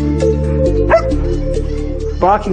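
Dog barks and yips come in short bursts over a steady musical backing, with a louder yelping run near the end. The sound is close and fairly loud.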